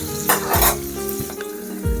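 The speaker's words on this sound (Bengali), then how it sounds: "ওই কড়াতে সামান্য তেল দিয়ে আর পেঁয়াজ কুচি দিয়ে দিলাম" Chopped onions fry in a little oil in a wok, a steady close sizzle broken by several dull spatula knocks and scrapes against the metal.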